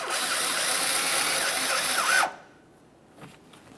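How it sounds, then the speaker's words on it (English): A power screwdriver drives a Phillips head screw into the front bumper cover of a 2010-2013 Kia Forte Koup, a close, steady whirring burst of about two seconds that winds down and stops, followed by a faint click. "Along each corner of the bumper cover, we're going to install our Phillips head screw."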